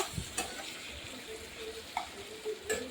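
Tiger prawn curry masala is stirred and fried in a pan, giving a quiet continuous sizzle broken by a few scraping clicks of the spoon against the pan.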